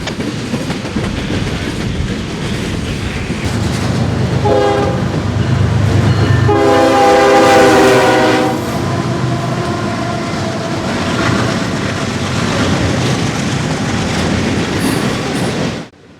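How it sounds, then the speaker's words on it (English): A westbound intermodal freight train rolls past at a railroad event, its loud horn sounding for a few seconds over a constant heavy rumble and rail clatter, close and sustained throughout. "A westbound intermodal gets blocked by the tanks yet again"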